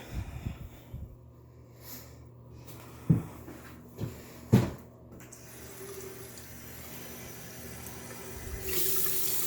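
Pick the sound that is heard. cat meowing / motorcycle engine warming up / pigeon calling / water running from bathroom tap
water running from bathroom tap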